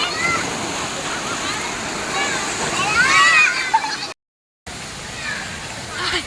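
Rushing, splashing water pours steadily like a waterfall, loud and close, with a brief dropout near the end.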